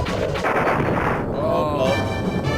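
Bombs exploding in the Star Fox video game make a dense, continuous roar of rumbling blasts and gunfire-like bursts, loud and unbroken throughout, with a voice faintly underneath.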